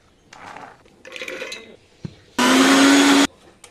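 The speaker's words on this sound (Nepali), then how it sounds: "अहिले चाहिँ हामी मिक्सरमा पिस्नु आँटेको." An electric kitchen mixer grinder grinding corn: some handling clatter and shorter whirs, then one loud, close, steady motor burst lasting under a second before it cuts off.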